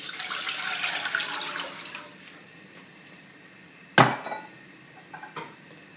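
Three cups of water poured from a container into a pot on a stove, a close rushing, splashing pour for about two seconds that tapers off, then a sharp clank of the pot and a few lighter knocks.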